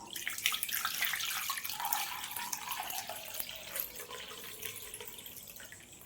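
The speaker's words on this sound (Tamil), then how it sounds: "ஃபஸ்ட்டு தீபத்துக்கு தண்ணி விடுவோம்" Water poured into a layered oil lamp for a temple worship ritual, a soft continuous splashing trickle with a rising gurgling tone as the vessel fills, close and fairly quiet, no voices.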